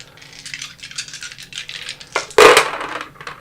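Astrology dice rattle and clatter on a hard surface, a soft jostling run of small knocks building to one sharp loud tumble near the end, with no talk.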